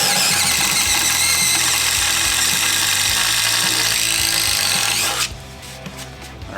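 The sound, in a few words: DeWalt 887 impact driver drilling hole with 1/2 inch wood bit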